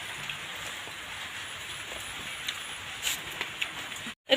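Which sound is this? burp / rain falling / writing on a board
rain falling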